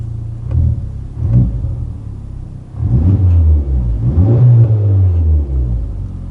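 A Honda Civic Type R FL5 with a Magnaflow SPEQ exhaust gives a few short throttle blips, then a deeper rising rev that drops back to a rumbling idle, loud and close with no talking.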